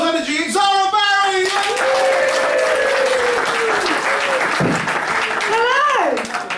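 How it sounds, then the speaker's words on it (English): A comedy club audience in Guildford applauds and cheers to welcome a comedian on stage. Loud, dense clapping runs steadily throughout, with rising whoops and voices riding over it. "Ladies and gentlemen, please welcome, lots of love, warmth, joy, applause, energy, Zahra Barri!"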